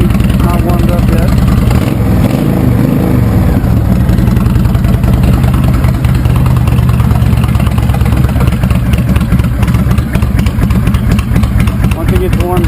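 A 2005 Honda VTX 1300 motorcycle with Cobra Longshots exhaust running on choke while still cold, a loud continuous low engine rumble throughout, close to the microphone.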